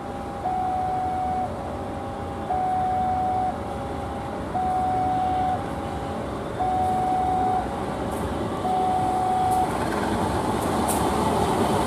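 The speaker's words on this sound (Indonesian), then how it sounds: "CC201 nih." A CC201 diesel locomotive passes with a steady, loud rolling rumble, while a repeating two-note tone sounds over it at a regular pace.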